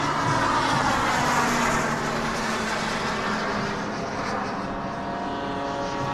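A warbird aircraft comes in to land at a bomber field among a formation of vintage planes, with a steady, loud propeller engine drone that holds throughout and eases slightly toward the end, with no voices over it.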